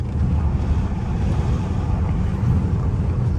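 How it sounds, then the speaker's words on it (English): Steady, loud wind buffeting through the open sunroof of a Dodge Hellcat while driving, a continuous low roaring rush with no talk over it. "Let me do something with this sunroof so y'all won't be hearing all that wind noise."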